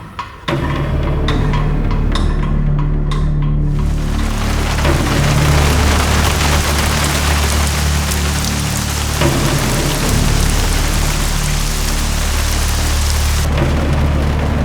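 Heavy rain pours steadily and loudly, a dense constant roar with a low rumble beneath it.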